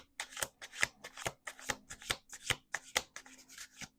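Tarot cards are shuffled by hand in quick repeated riffles, a crisp close flutter pulsing about twice per second, with no talking.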